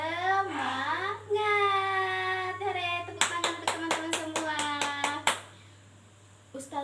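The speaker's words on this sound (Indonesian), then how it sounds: "Tepuk semangat." A class of children claps a quick patterned spirit clap, about ten sharp claps in a burst with a few voices calling along, near and lively, after a voice leads in speaking.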